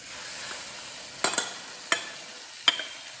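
Carrots and meat stir-fried in a pan for Chinese egg roll filling, a soft background sizzle punctuated by three or four sharp scraping clinks of a spatula.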